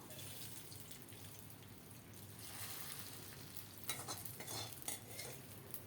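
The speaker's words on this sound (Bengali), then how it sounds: "ফোড়ন একটু ঠান্ডা হলে এখন ডালের উপর দিয়ে দেবো" Hot radhuni and fennel-seed tempering is poured onto thick black gram dal in a kitchen. A faint, soft sizzle and stirring build briefly into a few louder crackling bursts near the end, with no talking.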